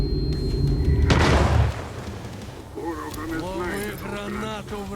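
A grenade blast in a video game fight against Faust: a loud, sudden boom about a second in, decaying over half a second, followed by voices talking.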